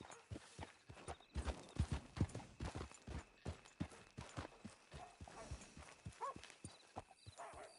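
Horse hooves clip-clop at a walking pace in the video game Red Dead Redemption 2, a close, even run of hoofbeats continuing throughout with no talk over them.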